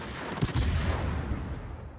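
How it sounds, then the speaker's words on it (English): Naval ship guns firing a shot in a warship combat game, a heavy booming report with a rolling, fading rumble that lingers for about two seconds. "Shot away."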